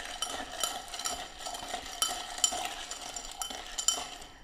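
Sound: stirring iced moka pot coffee drink with ice

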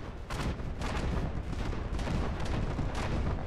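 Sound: 1000mm APS cannon firing in video game From the Depths

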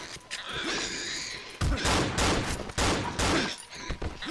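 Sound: gunfire in the video game Cry of Fear

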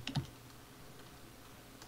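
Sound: computer keyboard typing

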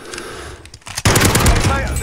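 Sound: gunfire in a shooting video game

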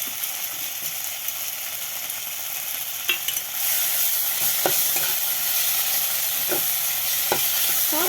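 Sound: stirring spices with turmeric and chili in a pan

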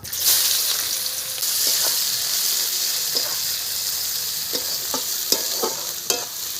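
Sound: onions frying in oil with nigella seed tempering

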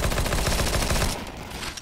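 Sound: gunfire in the video game CS GO

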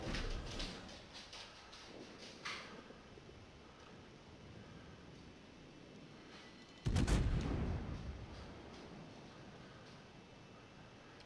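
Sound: gunshot fired in a video game

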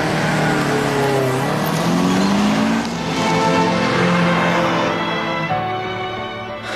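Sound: car driving in Initial D anime

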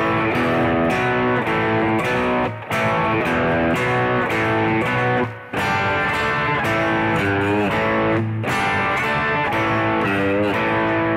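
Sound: Rock song chorus chords on distorted electric guitar

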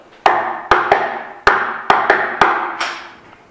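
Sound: secret knock code tapped to open an electronic lock

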